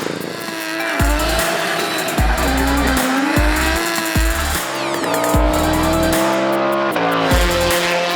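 Race cars at Virginia International Raceway lap the track at a busy event, engines revving hard and shifting gears with repeated surges and drops, tires squealing and skidding loudly and close by throughout, with no talking.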